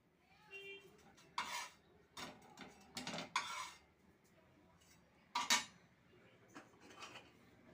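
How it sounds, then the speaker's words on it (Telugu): Kitchen sounds while making dosa: several short, close clinks and scrapes of utensils against pots and pans come in separate bursts between quiet pauses. "ఇంకా దోశ అయితే వేస్తున్నానండి"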